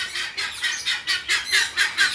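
A guinea fowl in another room of an aviary gives a rapid series of about nine harsh, rhythmic squawking calls, evenly spaced and moderately loud, slightly distant, with no speech.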